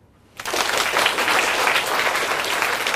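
Audience applause in a lecture hall bursts in after a brief quiet start and continues as steady, loud, dense clapping that fills the rest of the moment without any talk.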